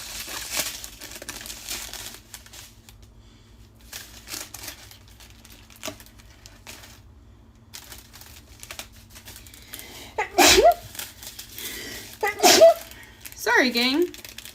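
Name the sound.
sneeze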